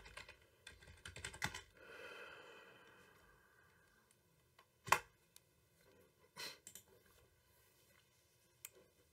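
Keys tapped on a computer keyboard in short bursts, some clustered clicks early and a few isolated louder strikes later, fairly quiet with no talk.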